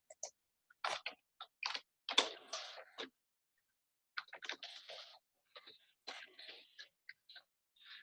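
Keys on a computer keyboard clack in short irregular bursts of quick taps with pauses between, close and faint, no talk.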